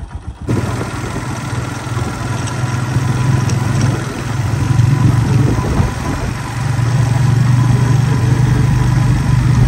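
Motorcycle engine starts abruptly and runs at a steady mid-pitched idle, loud and close, with the throb rising slightly midway and again near the end as the engine is revved a little.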